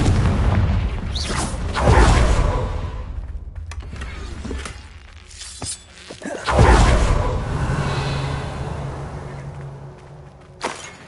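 A Confringo fire spell goes off in a wizarding video game: two loud booming blasts with whooshing swells, one near two seconds and a bigger one around six and a half seconds, with sharp pops and crackles scattered between.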